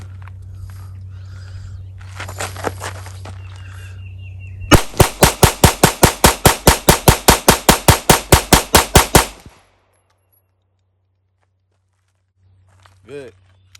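Rapid semi-automatic handgun shots at an outdoor range day, a fast, evenly spaced string of about twenty sharp, loud cracks following some quieter handling noise, then near silence with a faint later clink.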